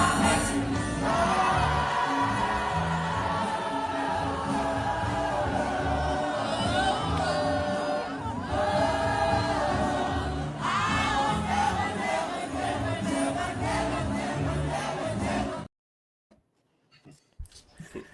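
A large outdoor Juneteenth crowd in Harlem, loud and dense with shouting, cheering and a mass of voices, continuing for about fifteen seconds before cutting off abruptly into near silence.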